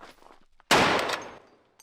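A single loud burst of gunfire from a Modern Warfare 2 weapon replica fired from the hip without aiming at a ranch, a sharp close blast that decays over about a second, preceded by faint movement.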